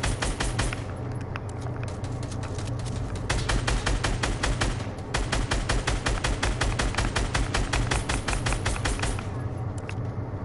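Rapid automatic gunfire from a PS4 video game rattles almost continuously in dense bursts, loud and close, with a brief lull near the middle and game noise underneath.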